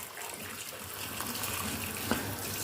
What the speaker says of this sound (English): I've already boiled the kettle, so add the hot water now.